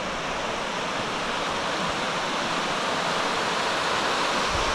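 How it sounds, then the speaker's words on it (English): A small river in the Tasmanian Highlands flowing steadily, a continuous close rushing and burbling wash that stays loud and even throughout, with no talking. "pretty cool little river though"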